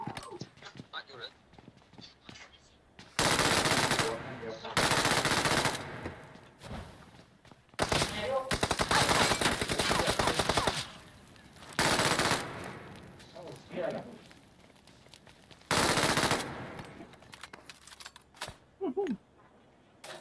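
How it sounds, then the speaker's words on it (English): In the PUBG Mobile game, an MG3 machine gun fires several loud sustained bursts, each lasting around a second, separated by short pauses, while players talk throughout. "他没有感受到 MG 三的威力。"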